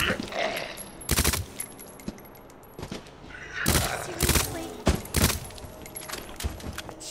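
Rapid bursts of gunfire from a gun in Resident Evil 2 come in loud clusters separated by brief pauses, with a faint voice underneath.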